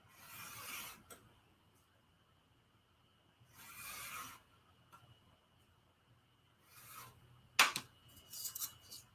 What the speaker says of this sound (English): Now to trim the other side to 10, down from 11.